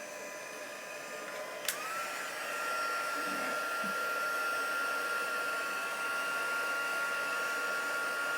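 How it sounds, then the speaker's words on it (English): A crafting heat tool switches on with a click and blows a steady, whirring hiss while drying stamped ink, holding constant at moderate loudness for several seconds. "Let me grab my heat tool."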